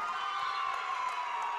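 A basketball crowd at an area championship game cheers steadily after a made free throw, with a sustained roar of many voices that does not break.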